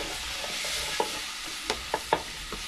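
Food frying in a pot in an African village kitchen: a constant soft sizzle with a few scattered scraping stir strokes and light clinks, fairly quiet and alone.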